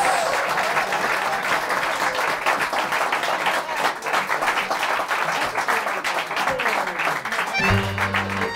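An audience at a talk show warmly applauds to welcome a singer, dense steady clapping filling the room before fading into other sound at the end.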